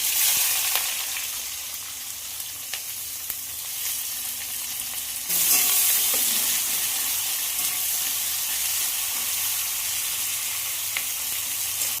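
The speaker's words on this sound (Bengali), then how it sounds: "এবার ফোড়নে দেবো গোটা গরম মশলা, তেজপাতা, আর দেবো পেঁয়াজ" Whole garam masala, bay leaves and onions fry in hot oil left from browning potatoes, a loud continuous hissing sizzle that jumps sharply louder partway through as more goes into the pan, with no speech.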